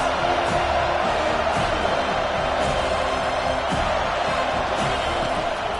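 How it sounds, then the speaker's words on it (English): A football stadium crowd roars steadily as the home fans try to rattle the opposing offense, a dense, continuous wash of noise with scattered whoops and louder swells throughout. "This crowd trying to make life miserable for this offense."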